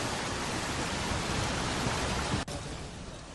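Heavy monsoon rain in Chhindwara, Madhya Pradesh, pouring onto a flooded national highway: a dense, steady roar of rain and rushing water, loud and unbroken, with a brief dip near the end before the downpour continues.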